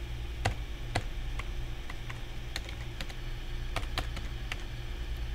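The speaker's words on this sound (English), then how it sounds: "I just type in the last name and then the first name and the date of birth." A visitor's last name, first name and birth date are typed on a computer keyboard in irregular bursts of crisp key clicks over a constant low electrical hum.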